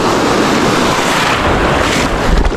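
Rough sea waves at a fishing spot, heard as a close, loud, continuous wash of surf and water with wind noise over the microphone and no talk.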